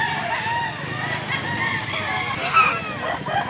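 A rooster at a poultry market in Mantalungon, Barili, Cebu crows in a long sustained call over a busy, noisy background with some voices.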